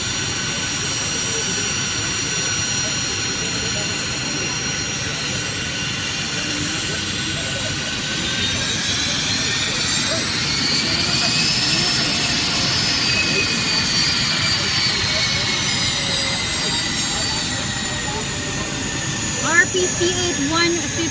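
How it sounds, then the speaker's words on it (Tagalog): Engines of the presidential jet, registration RPC-8-150, run steadily before take-off, a continuous loud whine and roar with a rising tonal sweep midway, heard close and unbroken for over twenty seconds. "Ready for take-off na ang jet ni Digong."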